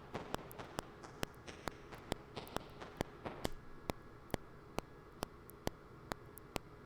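A faulty Eurorack synthesizer module sends a steady train of sharp electronic clicks, evenly spaced and roughly three per second, over a low hiss, close and moderately loud with no talk.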